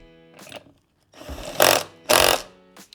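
An impact driver tightening a shoulder bolt on a Dometic pump, a soft first buzz followed by two loud, short ratcheting bursts close to the ear, with a faint tap at the end.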